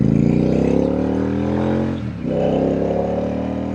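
A Royal Enfield Super Meteor Dresser motorcycle's engine rumbles loud and close, a deep steady thrum that briefly dips as the throttle eases before picking back up, with no voices.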